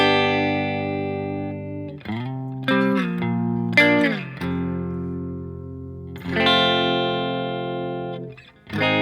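An electric guitar with heavy effects and reverb plays the chord progression from a song, with sustained ringing chords that change every second or two, clear and alone.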